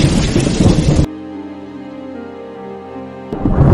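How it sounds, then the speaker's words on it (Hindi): Cartoon sound effect of heavy rain with thunder: a loud hiss of downpour that cuts to a held tonal ringing, then the roaring rain returns. "यह तेज बारिश लगातार 4-5 दिन से अपना कहर बरसा रही थी"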